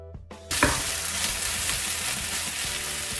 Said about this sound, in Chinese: 咱们将茄子煎软